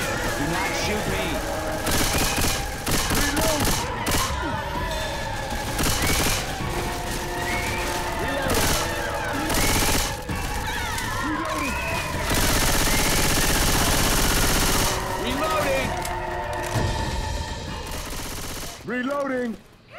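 Rapid bursts of gunfire from several weapons in the zombie shooter game Left 4 Dead 2, sustained and loud throughout, mixed with characters shouting and talking over the shooting.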